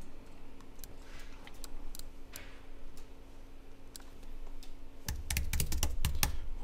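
Text being typed on a computer keyboard, sparse keystrokes at first, then a rapid run of crisp clicks near the end, close-up over a steady low room hum with no talking.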